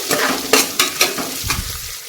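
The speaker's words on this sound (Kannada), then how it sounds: "ಒಂದು ಈರುಳ್ಳಿ ಎರಡು ಹಸಿ ಮೆಣಸಿನ್ಕಾಯಿನ ಉದ್ದದಾಗಿ ಕಟ್ ಮಾಡಿಟ್ಟಿದ್ದೀನಿ ಅದನ್ನು ಕೂಡ ಸೇರಿಸ್ತಾ ಇದ್ದೀನಿ" Lengthwise-sliced onion and green chillies fry in oil and ghee, a close sizzle broken by several rhythmic stirring scrapes over two seconds.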